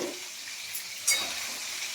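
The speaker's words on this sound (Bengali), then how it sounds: "এটা মশলাটা কষাচ্ছি আলুটা দিয়ে" Pointed gourd and potato fry in a spiced pan, a soft steady sizzle with a couple of brief scraping stirs, close and fairly quiet with no talking.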